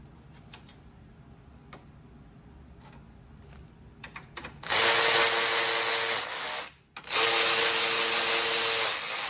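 Power tool driving and torquing bolts during radiator work on a Mercedes C63s AMG: scattered close clicks and taps, then two long, loud, steady whirring bursts split by a brief pause.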